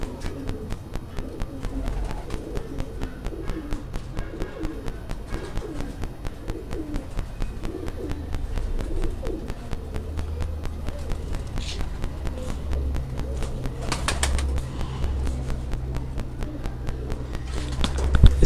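Flying pigeons cooing softly in repeated low phrases, with light shuffling and scratchy movement nearby and a low rumble building later.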